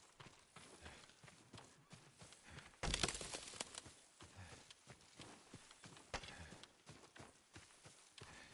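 Horse hooves clip-clop in Ghost of Tsushima at a walking pace, quiet and fairly close, with one louder thump partway through and faint ambient game sounds around them.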